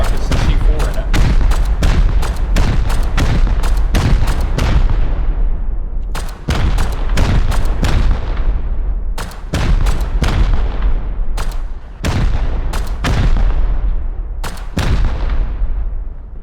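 In the video game Rust, a 3x3 base is hit by rocket after rocket, sharp booming blasts in rapid clusters, separated by brief lulls and repeating throughout.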